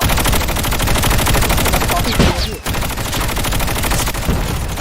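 Sustained automatic gunfire rattles in Call of Duty Mobile, a loud, rapid stream of shots with a brief pause near the middle, set against heavy in-game noise.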